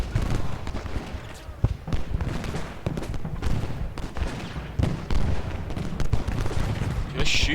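Artillery and musket volleys from the Gettysburg battle game Ultimate General Gettysburg roll on continuously, a dense wash of booms and crackling fire with a few sharper reports, with someone talking over the din.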